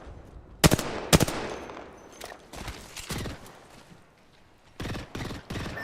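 Video game gunfire aimed at an enemy's shield comes in short, sharp bursts and single shots. The shots are spread unevenly across the clip, with a tight cluster at the end, and play fairly quietly with no talk.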